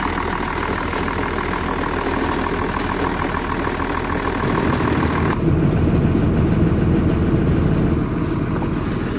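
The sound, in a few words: engine idling and rattling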